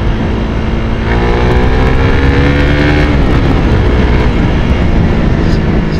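Engine of a Suzuki Raider FI motorcycle, a loud, steady drone close by whose pitch rises as it revs and accelerates, with wind noise around it.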